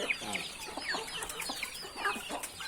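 Several Thai native chickens cluck and chatter nearby in a busy, overlapping stream of short calls, moderately loud with no talking.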